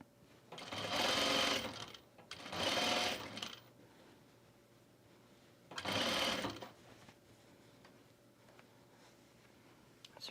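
A sewing machine stitches fabric in three distinct bursts, two close together and then a third after a pause, whirring fairly softly over quiet room tone.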